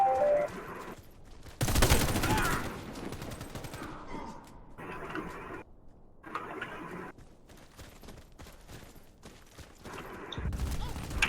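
Gunfire rattles through a team deathmatch round of a shooter video game, with loud bursts of automatic fire broken by short pauses and quieter stretches, and a voice talks briefly in the gaps.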